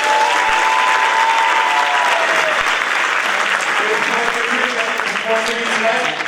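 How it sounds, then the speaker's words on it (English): A crowd applauds a middle school jazz band at a jazz festival, with loud, continuous clapping and cheering throughout and faint voices mixed in underneath. "Let's give them a huge round of applause."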